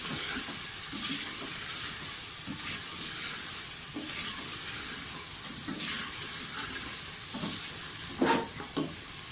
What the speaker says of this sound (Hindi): सारे मसालों के साथ अच्छी तरह से भुनाई कर लें।